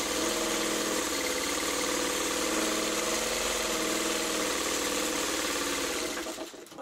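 A sewing machine stitches a straight seam with a fast, even mechanical whir and tapping that runs steadily close by, then stops abruptly at the end.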